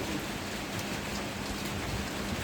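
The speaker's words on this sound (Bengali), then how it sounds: "প্রচুর পরিমাণ বৃষ্টি" Heavy rain from the approach of Cyclone Remal, in Brunei, pours down in a dense, constant hiss, drumming on surfaces without pause.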